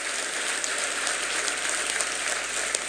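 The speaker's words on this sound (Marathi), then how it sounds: "एकदा सर्वात जोरदार सर्वांनी टाळ्या वाजवून त्यांचं स्वागत करा" Sustained audience applause welcoming RSS chief Mohan Bhagwat at a kirtan festival, a dense, steady wash of many hands clapping throughout with no talk.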